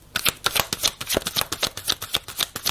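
Tarot-style cards are shuffled and drawn for a reading in a quick, even run of crisp riffling flicks, close and fairly quiet, with no voices.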